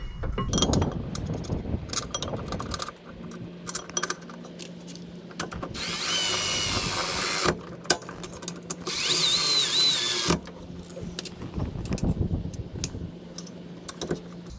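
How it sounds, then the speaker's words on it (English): A power tool drives bolts on the rear brake mount of a 2012 Toyota RAV4, two sustained whirring bursts with metallic clinks and handling noise around them, fairly close. "Bolting up the mount."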